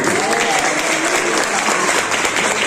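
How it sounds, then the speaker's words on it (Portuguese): Church congregation applauding: dense, steady clapping from a large crowd throughout, with cheers and voices rising through it. "Quem está comigo aqui, dê uma aplauso a Jesus e glorifica a Deus."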